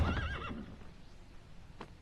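A horse whinnies close and loud in a blocky Minecraft Dungeons & Dragons adventure, a single wavering neigh that trails off into a quiet outdoor murmur, with a faint short sound near the end.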